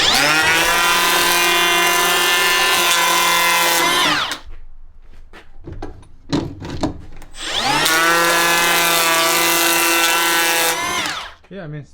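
A Makita 18V cordless planer, model XPK02Z, runs in two loud, steady bursts of high whining motor roar, each about four seconds, with a short gap of spin-down and handling noise between them.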